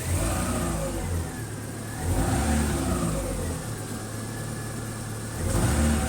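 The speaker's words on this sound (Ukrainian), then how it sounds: "Ну погазуй. Це бомба! Новий глушник, новий резонатор." A Chevrolet Aveo engine fitted with a new muffler and resonator revs up in repeated surges over a steady idle, loud and close, with no talking.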